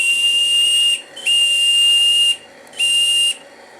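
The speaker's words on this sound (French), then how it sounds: "j'ai le sifflet, donc le bateau avance bien" Steam whistle on a radio-controlled Roca-Fortis steam launch sounds in three loud, shrill blasts, the middle one longest, each cut off with brief hissy gaps between.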